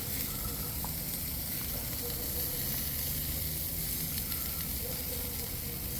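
Tomahawk steaks sizzle on a Weber kettle grill, with a steady, close hiss of searing meat and fat that fills the whole stretch without talk.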